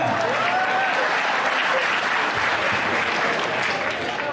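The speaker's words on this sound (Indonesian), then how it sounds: "tepuk tangan, tepuk tangan" Loud, dense audience applause at a religious talk gathering, sustained and even from start to finish with a crowd murmur underneath.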